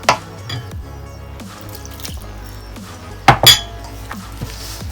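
A spoon works through a runny saltfish fritter batter of plain flour in a bowl. Scattered sharp clinks against the bowl and soft wet drips come at an uneven pace over a quiet background, with no talking.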